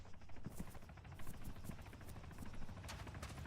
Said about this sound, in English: Sounds like a chopper. That is a chopper.